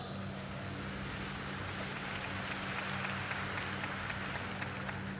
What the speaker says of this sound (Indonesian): Beri tepuk tangan yang meriah untuk beliau.